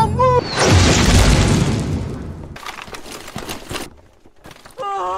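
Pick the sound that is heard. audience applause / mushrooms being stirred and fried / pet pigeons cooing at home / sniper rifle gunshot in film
sniper rifle gunshot in film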